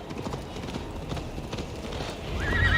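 A horse gallops in the video game Assassin's Creed Valhalla, with steady, rhythmic hoofbeats close by and a whinny rising near the end.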